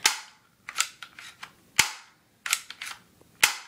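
A pump-action airsoft gun fires a series of sharp, snappy shots at close range, single cracks spaced apart and mixed with quick clustered clicks from working the pump action, with no talking.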